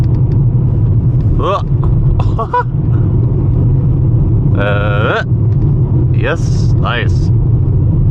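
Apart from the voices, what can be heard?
VW Golf 5 driving over a bumpy road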